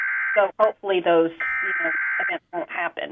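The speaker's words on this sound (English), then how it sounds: "so I don't know if you can hear that alarm going off." An Emergency Alert System test alarm, a steady electronic tone that sounds for a moment, stops and returns, heard faintly through a broadcast while a person talks over it.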